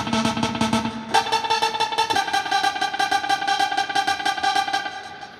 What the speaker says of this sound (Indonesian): kita akan coba sekarang klik tombol arpeggio teman-teman ya.